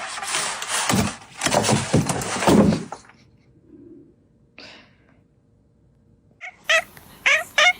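A cat lets out several drawn-out, complaining meows near the start, then after a quiet pause gives a few shorter, sharper mews and chirps, close and fairly loud.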